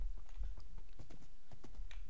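A horse's hooves clop in a quick, uneven rhythm in a video game, fairly quiet and close, with a few scattered thuds.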